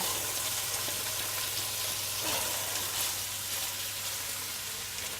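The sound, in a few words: crusted chicken breast frying and spitting in hot fat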